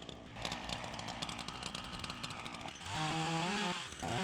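A Ryobi 14-inch chainsaw cuts into a substantial Bradford pear tree, its motor droning steadily and loud throughout, then shifting to a higher, strained whine near the end as the load on the chain changes.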